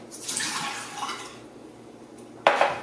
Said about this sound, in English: I'm dumping this down the drain.